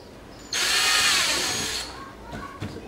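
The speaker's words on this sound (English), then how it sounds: "So we're gonna drill our hole here." A power drill bores a hole through a C7 Corvette rear diffuser, a steady high whine that starts suddenly, runs for about a second and a half, then stops, followed by faint handling noises.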